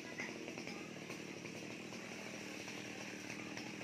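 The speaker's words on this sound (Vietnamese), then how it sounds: "cái máy cưa còn chạy bạch bạch luôn kìa" A chainsaw runs steadily at a constant idle-to-mid throttle while a worker cuts fronds high up a tall old coconut tree beside a house, a continuous buzzing drone heard from some distance with no speech.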